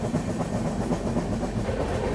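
A train rolls past a crossing on the Ramagundam bypass in Telangana, a continuous loud rumble with rhythmic clickety-clack of wheels on rails, no voices.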